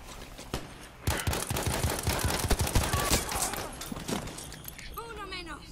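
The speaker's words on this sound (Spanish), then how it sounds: "Oigo disparos por aquí." Bursts of gunfire in the first-person shooter Battlefield V, rapid automatic shots and scattered single cracks crowding most of the moment, with some sharp nearby reports and someone talking over the fight.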